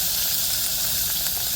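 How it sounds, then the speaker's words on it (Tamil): Chilli, tomato and onion sautéing in hot oil in a pan for a fish curry, giving a steady, close, even sizzling hiss that holds without a break and with no voices over it. "அப்புறம் தக்காளி வெங்காயத்தையெல்லாம் நல்லா போட்டு வதக்கி விட்டுருவோம்"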